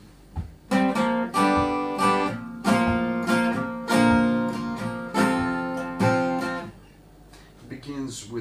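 Electric guitar playing the chord section of a riff, with strummed chord stabs in a steady, loud rhythm and short pauses between hits, heard alone close up.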